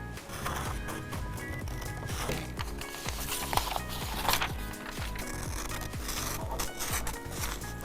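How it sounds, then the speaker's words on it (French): Scissors cut carefully around a paper sewing pattern, giving close, soft rustling and scraping paper sounds in an uneven rhythm throughout. "On découpe bien soigneusement."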